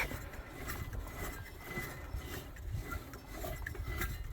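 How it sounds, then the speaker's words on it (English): Wrench turning on a Johnson snowmobile engine during a revival, soft continuous mechanical clicking and metal rattling up close, faint and steady with no talk. "a little bit of fogging oil and a little gentle persuasion with the wrench"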